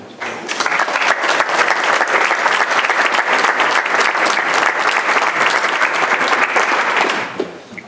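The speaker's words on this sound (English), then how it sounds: "offer them a round of applause before we start" An audience at a state senate candidate debate gives a loud, sustained round of applause, dense clapping that swells quickly, holds steady for several seconds, then tapers off abruptly.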